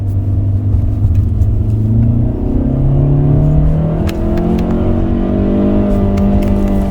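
A 2025 Hyundai Creta engine drones loudly from inside the cabin after a downshift using the paddle shifters, its revs climbing steadily into a rising whine over a constant road rumble.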